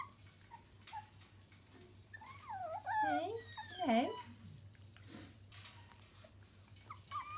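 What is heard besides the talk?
mother dog whimpering outside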